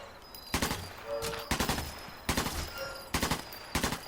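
Gunfire rings out at a shooting range in Sniper Elite 4, with short bursts of rapid shots repeating roughly every second, sharp and fairly close.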